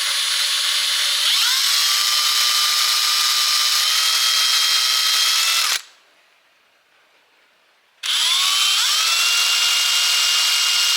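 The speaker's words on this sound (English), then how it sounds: "so I'm just going to drill some holes here." A power drill whirs loudly as it bores holes into a wooden chair, running steadily, stopping for a couple of seconds, then starting again.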